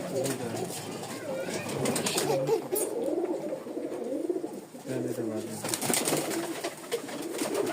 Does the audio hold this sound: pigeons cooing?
yes